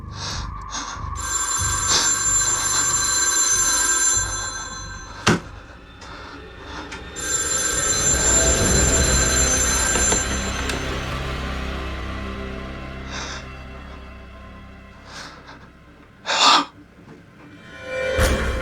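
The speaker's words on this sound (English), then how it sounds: "The phone was sitting on the counter and ringing." Telephone ringing in a remote woodland cabin in a horror video game, a loud, bright bell ring that persists for several seconds, breaks off, then resumes, with scattered sharp sounds and breaths near the end.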